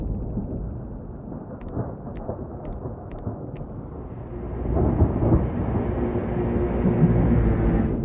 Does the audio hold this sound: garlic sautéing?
no